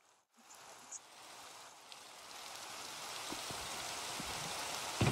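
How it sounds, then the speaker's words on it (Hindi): Steady rainfall in a Minecraft SMP world, a broad even hiss that swells slightly louder over the few seconds, with faint scattered droplet ticks and no talking. "बारिश"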